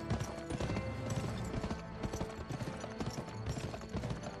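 Horse hooves clip-clopping in the western video game Gun, a rhythmic run of close, distinct hoof strikes over a layered game soundtrack.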